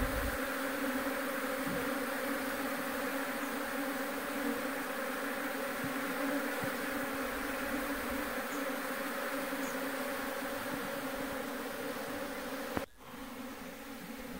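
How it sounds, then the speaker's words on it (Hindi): Apis cerana indica honey bees swarm into a wooden hive box during a beekeeping setup in Mandi, Himachal Pradesh, making a steady, dense, close buzzing drone that holds throughout, broken near the end by a brief knock. "ये देखिए कितने ज़बरदस्त तरीके से मधुमक्खी जो है वो अंदर की तरफ जा रही है बॉक्स के"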